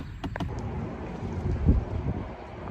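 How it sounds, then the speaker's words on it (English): Gusty wind buffeting the microphone beside a parked hotshot truck in Georgia, a steady low rumble with brief rustling bursts, no voices. "I apologize if it's windy out here."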